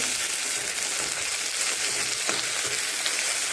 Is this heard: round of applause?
no